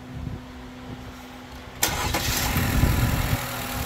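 A 2020 Chevy Malibu 1.5 turbo engine cranks briefly and fires up after new cam and phaser timing parts, catching abruptly and settling into a steady, fairly loud idle with no talking.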